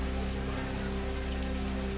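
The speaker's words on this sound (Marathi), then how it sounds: "जालन्यामध्ये अंतरवाली सराटीमध्ये जरांगे पाटलांच्या उपोषणस्थळी जोरदार पाऊस" Heavy rain at an outdoor protest site in a village in Jalna, a steady dense wash of falling water with no pauses, under a constant low hum.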